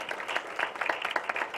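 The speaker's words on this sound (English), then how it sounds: "A big round of applause to them." An audience applauds at a world congress on dance research in Dadar, Mumbai, with a brief burst of dense, steady clapping from many hands at moderate volume.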